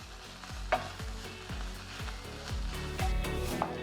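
Tomato puree for beef stroganoff sizzles in a pan while a spoon stirs it in rhythmic, repeated strokes, a close, steady frying hiss under regular scraping sweeps.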